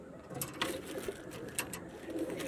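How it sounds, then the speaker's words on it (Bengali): An adult pigeon coos softly and repeatedly at close range, low rounded calls rising and falling over a steady background hiss with a few faint clicks. "একদম অ্যাডাল্ট পায়রা।"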